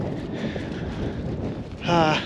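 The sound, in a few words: strong wind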